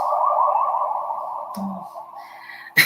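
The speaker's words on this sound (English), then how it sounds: "excuse the ambulance" An ambulance siren passes outside, a steady wailing tone that is loud at first, gradually fades, and ends with a short sharp noise.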